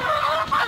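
Rhode Island Red hens and cocks on an open poultry farm in Palghar cluck and chatter continuously at close range, a busy overlapping flock noise with no talk.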